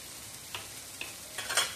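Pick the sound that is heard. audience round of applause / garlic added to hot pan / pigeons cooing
garlic added to hot pan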